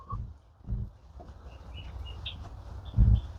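Small birds chirp faintly around a feeding box beside a walking trail, with brief high calls scattered over soft outdoor background noise and a few low thumps.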